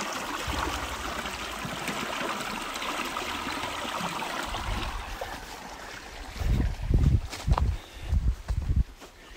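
Cold stream water rushes steadily in a broad, even wash, joined toward the end by louder, irregular low bumps and thuds close by, with no voices.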